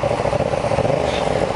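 Yamaha FZ-07 motorcycle with an opened exhaust pulling hard, a loud, close, steady engine drone with a raspy pulsing note.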